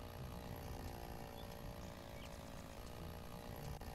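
A chainsaw cuts trees in Lumberjack's Dynasty, its engine droning steadily and evenly at a constant pitch for the whole stretch, with no voices.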